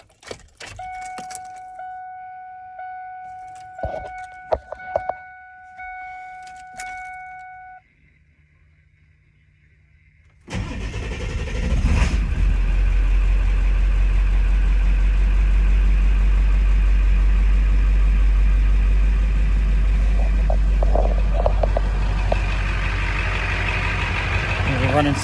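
Keys jangle near a 1999 Ford F350 chipper truck, then after a short pause its engine cranks, catches and settles into a loud, steady idle that runs on close by.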